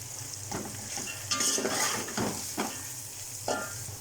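Carrots and chicken fry in oil in a pan, a close sizzle punctuated by several stirring scrapes and clinks of a utensil against the pan, with no voices.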